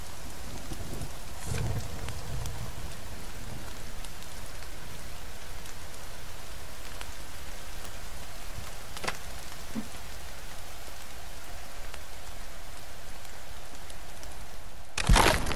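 Steady rain pours in the survival game The Forest, an even hiss of drops throughout with a couple of faint cracks, no talking.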